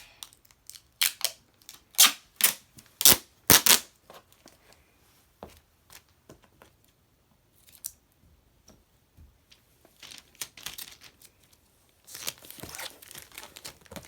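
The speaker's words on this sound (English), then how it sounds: "we want to make sure that we cut off the extra ends of tape" Adhesive tape is cut and torn off the roll while a shirt folding board is being made. A run of sharp crinkling rips and clicks comes early, then sparse small ticks, then another crackly burst near the end, all close up with no voices.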